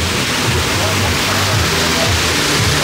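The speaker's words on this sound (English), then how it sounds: "So many water features throughout this park as well." Water features at Europa Park theme park splash and rush in a constant, loud wash of falling water, with indistinct voices faintly under the roar.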